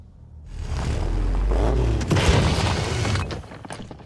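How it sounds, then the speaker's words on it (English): In a video game, a grenade launches and explodes in a loud, sustained blast lasting a few seconds. Deep rumbling and crackling debris fill it before it cuts off. "Maybe I can launch a grenade from here."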